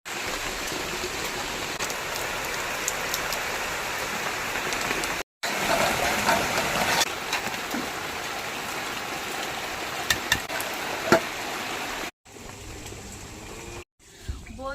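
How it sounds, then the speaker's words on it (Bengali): Heavy rain pours down in a steady, dense hiss that stays loud and close throughout, with two brief cuts to silence and no voices. "দশ পনেরো মিনিট ধরে জোর কদম সে বৃষ্টি হয়ে গেল"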